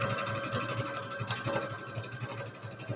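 A sewing machine runs steadily while top stitching fabric for a Christmas advent calendar, a close, even mechanical whir with a faint rhythmic pulse of the needle and no talking.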